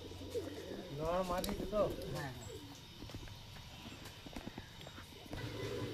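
Pigeons at a pigeon loft, with soft coos and a flurry of fluttering wings as the birds come down to land. A voice talks close by over the bird sounds.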